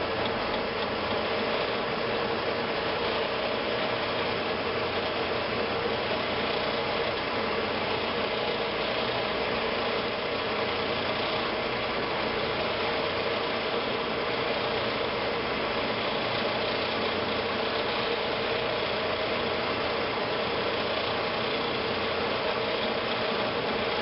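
An engine runs at a steady idle for the whole stretch, a continuous even mechanical drone with faint ticking, close and unbroken with no talk.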